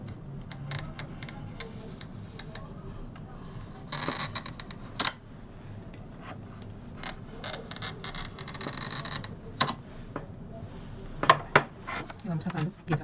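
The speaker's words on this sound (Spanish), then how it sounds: "Ahí se escucha perfecto los cortes del vidrio cuando están bien hechos." Glass being scored and snapped into pieces for a stained glass window, heard as a run of sharp, bright clicks and brief crisp bursts, some close and loud, spread irregularly across a quiet room.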